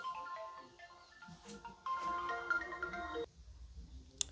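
A mobile phone ringtone plays a short electronic melody of steady tones, moderately loud and close, then cuts off abruptly, leaving quiet room noise.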